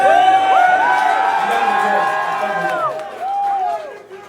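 A concert crowd cheering at a rap show, loud and close, with overlapping shouts and whoops rising and falling in pitch throughout.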